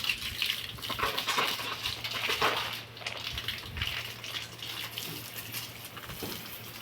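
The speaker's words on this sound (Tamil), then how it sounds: "என்ன அம்மா தண்ணி இங்கே தெரிக்குது," Water splashes and spatters across a stone floor while a Hindu temple is being washed, with the clatter of vessels and dripping in a busy, close wet scene.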